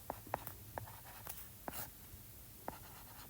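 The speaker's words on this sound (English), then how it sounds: "I'll write this up." Pen writing by hand while working a physics equation, a few crisp scratchy strokes and taps spaced irregularly, close and fairly quiet with no talk.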